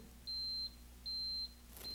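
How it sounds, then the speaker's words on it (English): Alarm of a Watchdog PDS 178 temperature monitoring system sounds a built-in horn as a steady high electronic beep, heard as two long tones and the start of a third, clear and fairly quiet in a still room. "an alarm will occur."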